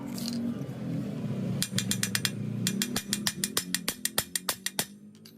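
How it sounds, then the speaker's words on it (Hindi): A ratchet socket handle turning a bolt on a Honda brush cutter, giving rapid, sharp, close clicking bursts that speed into an even run of pawl clicks before stopping. "17 नंबर रिंग रेंच, गोटी हैंडल खोल सकते हैं।"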